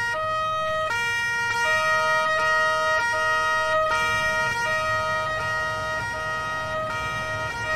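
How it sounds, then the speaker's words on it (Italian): A steady two-tone police siren from a Carabinieri escort vehicle in Farming Simulator 19, wailing loud and close in an even rhythm over a low engine rumble, with no talk. "Accendiamo qua la sirena."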